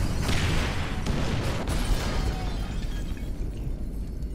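A firebomb blast in Grand Theft Auto V lets loose a dense, roaring rumble that holds steady across the stretch and fades only slightly toward the end, like a continuous burning aftermath more than a single sharp bang.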